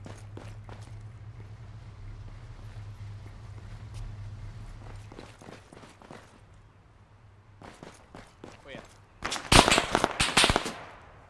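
Gunfire in a tactical shooter video game, a burst of loud sharp shots close together near the end, following scattered fainter distant pops over a low steady engine-like hum.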